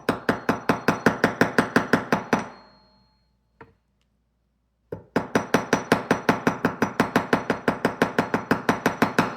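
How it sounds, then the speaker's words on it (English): Steady rapid hammer taps on a wire square spiral, a loud regular metallic ticking that halts for a couple of seconds, with one isolated tap in the gap, then resumes at the same brisk rhythm. "Now I've stopped again and hammer because if I go around the other side, it may be harder for me to hammer."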